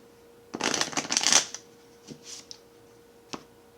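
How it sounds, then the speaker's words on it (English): A deck of cards being shuffled in a quick riffling burst, followed by a few soft taps and flicks of the cards, close up and without voices. "Let me just give it a few more shuffles."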